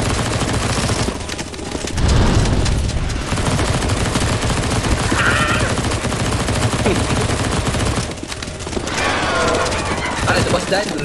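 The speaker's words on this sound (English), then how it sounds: "Stop shooting!" Rapid gunfire rattles through a CS:GO zombie escape map, dense bursts running nearly throughout under loud game noise, with people talking over the shooting.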